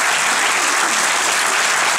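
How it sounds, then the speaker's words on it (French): An audience at a film premiere for the comedy Ma Famille t'adore déjà applauds loudly and continuously, a close, dense wall of clapping with no break. "on peut les applaudir"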